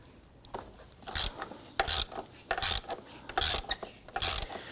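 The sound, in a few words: loosening Volvo XC90 oil filter lid with 36mm socket, swivel, extension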